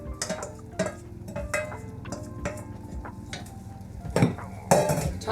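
Stir-fry vegetables tipped back into a pan, with clattering metal utensils, scraping and clinking against the pan and soft sizzling, in irregular bursts that grow louder near the end.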